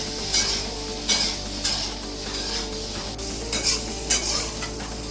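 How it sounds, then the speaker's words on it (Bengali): Steady sizzling of cauliflower frying in a pan, with several sharp scraping stirs of a utensil at irregular intervals; no voices. "তো ওইদিকে ফুলকপি ভাজা হয়ে গেছে"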